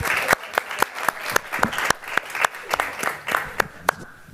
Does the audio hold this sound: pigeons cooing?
no